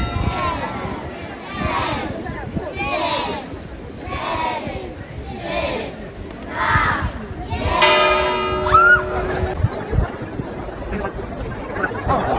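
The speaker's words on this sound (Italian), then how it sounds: "Siamo tornati alla piazza dell'orologio per vedere lo spettacolo di mezzogiorno di queste campane" Clock tower bells ring out the noon performance over a town square in Poland, with a steady run of strikes and a sustained tone near the end, while people talk and a crowd chatters nearby.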